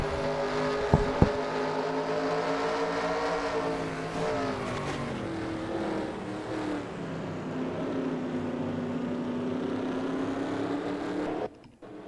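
A steady, droning roar of several race car engines on the South Africa track in NASCAR Racing 2003, with pitch slowly sliding as the cars circulate, cut off abruptly near the end.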